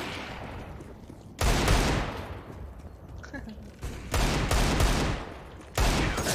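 Gunfire in a first-person shooter video game comes in three loud, dense bursts of rapid shots, each cutting in sharply over a quieter background of softer game noise.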